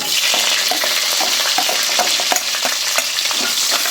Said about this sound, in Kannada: ಈರುಳ್ಳಿನ ಫ್ರೈ ಮಾಡೋಣ